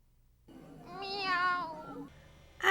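A single drawn-out cat meow in an animated fairy-tale film, rising and wavering in pitch for well over a second, clear and close, followed by a short noisy burst at the end.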